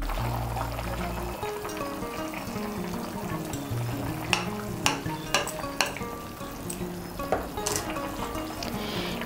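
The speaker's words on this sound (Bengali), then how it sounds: "ঘি আর গরম মশলার গুঁড়োটাকে মিশিয়ে নেব।" Ghee and garam masala powder are stirred into a simmering chhana dalna, a bubbling sizzle with a series of sharp spoon knocks and scrapes against the pan partway through.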